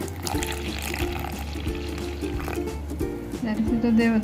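Water pours from a container into a flour dough mix, a short liquid trickle and splash rising near the end over kitchen clatter, with someone talking throughout.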